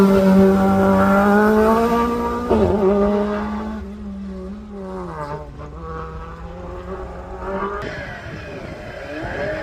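Hillclimb race car pulling away from the start line at Craigantlet, a loud, steady engine note near at first, then shifting pitch and fading slightly as it moves off, with a sharp rise again near the end.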